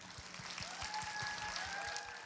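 A church congregation at a Sunday young adults' service applauds to congratulate a member on her upcoming wedding: soft, steady clapping heard from a distance, with a faint sustained musical tone underneath.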